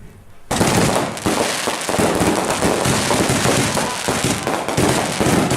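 Fireworks explode in a dense, continuous barrage of loud crackling bursts and booms during a home fireworks show, starting abruptly after a brief quiet moment and staying intense throughout.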